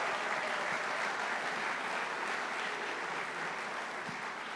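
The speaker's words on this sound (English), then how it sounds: "let's give them a round of applause for being here as well." A large audience of about 500 at the Nixon Library, many of them students, claps in a dense, steady wash of applause that holds evenly throughout.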